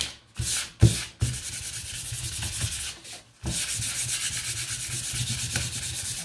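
Sandpaper rubbing back and forth over a painted wooden sign holder, close and steady with a few brief pauses, no voices.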